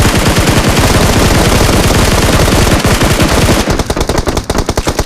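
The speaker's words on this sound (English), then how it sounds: "Gun sounds." Video game gunfire crackles in a loud, dense automatic burst of rapid, evenly spaced shots that runs for several seconds, then breaks into shorter, ragged volleys, with no voices over it.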